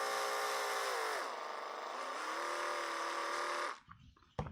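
A cordless drill spins a 3.2 mm bit to bore a clearance hole while building a 3D printer hotend. It gives a loud steady whine that dips in pitch under load, then stops, followed by a few faint clicks.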